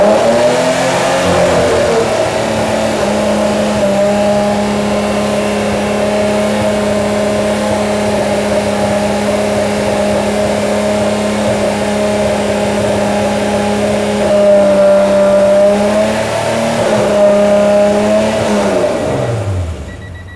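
An Acura NSX engine revs steadily at a sustained high pitch for a long stretch, loud and close, with brief dips and rises near the end before the revs drop off.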